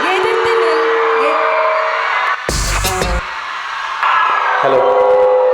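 A college annual day audience at Kongunadu College bursts into loud applause and cheering as actor-composer GV Prakash is invited onstage, a dense crowd roar that swells in the middle and keeps going throughout.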